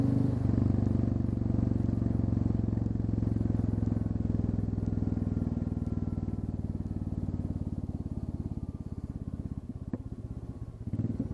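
Royal Enfield Classic 350 single-cylinder engine running with the exhaust tip taken off, a steady, deep, pulsing idle heard up close. It holds an even thump throughout, with a faint click near the end.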